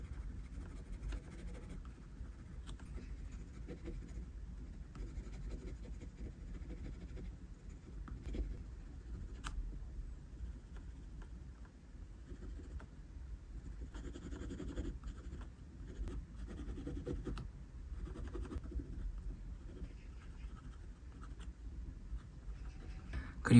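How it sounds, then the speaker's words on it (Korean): Pencil shading dark pupils into a hand drawing: steady soft scratching and rubbing strokes of graphite on paper, close and continuous, with no voices. "눈동자는 어둡게 색을 칠해줍니다."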